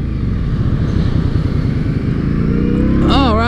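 A small Indian motorcycle at a dealership demo day, its engine loud and close with a rapid, pulsing putter that climbs in pitch as it accelerates near the end, with a voice briefly over the engine.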